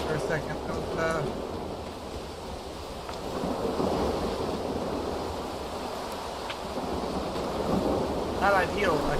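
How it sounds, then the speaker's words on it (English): A thunderstorm in Stalker 2 fills the scene with a heavy, constant rumble of rain and wind, and low thunder swells under it. A voice speaks briefly at moments over the din. "I can't hear very much over all this storm."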